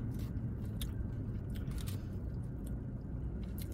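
A falafel pita with spinach and quinoa chewed up close, with soft wet squishing and bites over a low muffled rumble, no speech.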